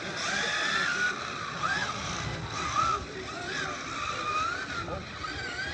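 Kyosho RC cars racing on a wet track in the rain, small motors whining and buzzing steadily throughout with rising and falling pitch sweeps as cars pass, spray and hiss beneath, with people talking in the background.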